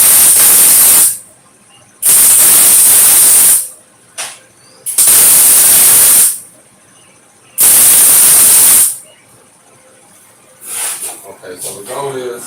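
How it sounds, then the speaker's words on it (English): Bursts of steady, loud hissing crackle from tack welding on a steel plate, four long strikes of one to two seconds separated by short silences, with brief faint sputters between and near the end. "And I'm just going to tack it on here."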